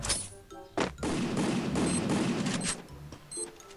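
Gunfire in the mobile battle royale game Free Fire: a sustained burst of rapid shots with a few separate cracks at the start and end, at moderate level.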